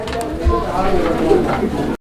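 Pigeons coo in low, soft, rolling murmurs close by, over a continuous noisy background.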